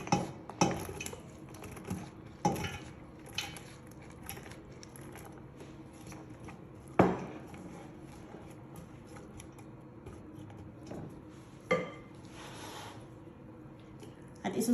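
Mixed meat goes into a pot with a little corn oil for a Filipino-style meat dish, giving soft clinks, scrapes and sizzling patter with a few sharper knocks over steady background noise.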